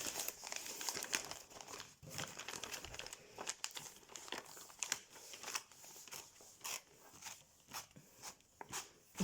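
Crinkling and rustling of plastic packaging being opened on a cross-stitch kit measuring 48 by 37 cm, with repeated sharp crackles and tearing sounds close up at a steady fidgety rhythm, no talking.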